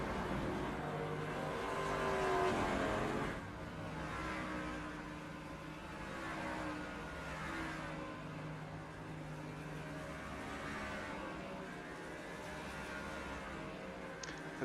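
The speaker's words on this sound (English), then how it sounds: "Kyle Moonen, Gary Offit will make their way down pit road along with Greg Parmalee." Race cars driving down pit road, heard as a steady engine drone with some rising revs and whirring, fairly faint and moderately distant.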